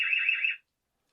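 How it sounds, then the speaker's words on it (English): A camper van's shrill electronic alarm tone sounds loudly for about half a second, then cuts off into silence. "That's the alarm going."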